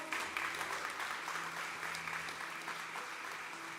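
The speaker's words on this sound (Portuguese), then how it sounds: "Glória a Deus, dá um aplauso ao Senhor." A church congregation applauds in steady, dense clapping that fills the room throughout, with faint tones from instruments or voices underneath.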